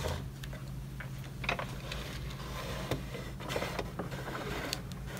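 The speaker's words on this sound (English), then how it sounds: "Gonna add the embossing mat right on top, and then we run it through the machine." An embossing machine feeds a folder and embossing mat through its rollers, producing a close, busy run of small clicks, ticks and ratchety taps over a low mechanical hum.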